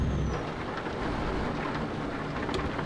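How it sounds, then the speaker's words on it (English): Steady rain patters in Euro Truck Simulator 2 during a drive on a ProMods career map, a continuous broadband wash with a low rumble beneath, even and unbroken throughout. "Oh, a bit of rain."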